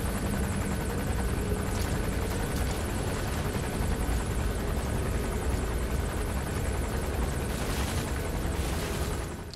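In-game helicopter from Metal Gear Solid 5 holds a continuous, loud rotor roar with rhythmic low chopping for the whole stretch, blended with gusty sand-laden wind hiss; no voices.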